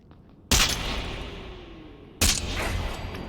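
Two sharp, loud pistol shots from a Beretta M9A3 in a Fallout 4 mod crack about two seconds apart, each followed by a ringing echo tail, with no voices.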